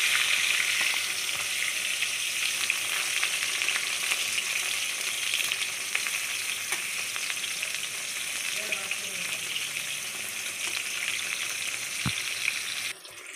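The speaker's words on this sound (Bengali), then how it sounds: "পটলগুলো দিয়ে হালকা হালকা করে ভেজে নিচ্ছে।" Pointed gourd pieces fry in hot oil in a wok with a loud, steady, dense sizzle running throughout, with occasional faint stirring clicks and no talk.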